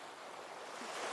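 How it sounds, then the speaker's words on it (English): Soft ocean waves washing against a tropical shore at Bora Bora, a steady broadband surf hiss that swells slightly toward the end, with no voices. "hear the sound of the waves lapping against the shore"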